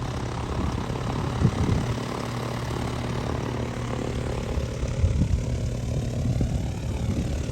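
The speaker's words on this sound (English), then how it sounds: "that one's gonna taxi out and take off." A small propeller airplane taxis out at an airport for takeoff, its engine droning steadily at a moderate distance with a constant buzzing hum and slight swells, no voices.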